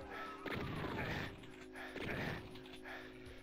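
Gunfire from an enemy soldier in the Doom video game, two heavy broadband shots about 1.5 seconds apart over a steady background hum, fairly close and loud.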